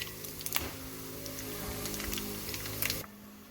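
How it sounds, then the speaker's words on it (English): A spoon stirs zira, kalonji and methi seeds in a hot bagar tempering for gosht ka achar, giving a steady close crackle broken by a few sharp scraping clicks against the pan, with no voices. "I'm gonna stir that up."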